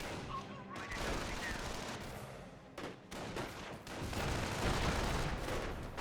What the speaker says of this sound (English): Massive hit there by the mortar.